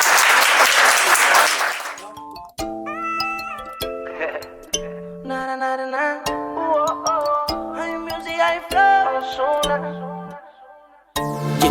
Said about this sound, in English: Some noise for Sarah.